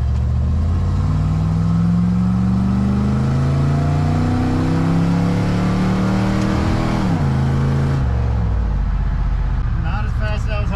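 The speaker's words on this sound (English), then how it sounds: "I want to do another 0 to 60 run. The last one, I didn't have full throttle, so." A 1969 Lincoln Continental at full throttle in a 0-to-60 run, its engine roaring loud and close as the pitch climbs steadily through the gears, with a clear shift near the end and voices speaking over it.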